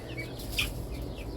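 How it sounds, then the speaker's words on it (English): A hen with her young chicks makes soft, scattered clucks and faint peeps close by, with a short brighter chirp partway through over a steady low background. "There's her chicks"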